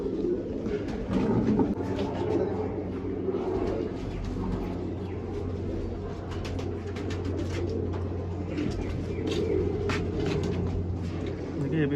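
Pigeons coo repeatedly in soft, rolling, throaty phrases at a pigeon loft on a dairy farm in Nashik, Maharashtra, close and fairly steady, with a voice talking over them.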